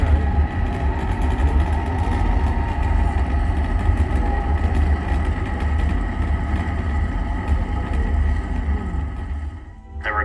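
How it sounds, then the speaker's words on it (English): SpaceX Falcon 9 rocket lifting off on its nine Merlin engines, a loud, steady, deep roar with a dense rumble that holds for the whole stretch before tailing off at the end. "All 9 Merlin engines have to lift."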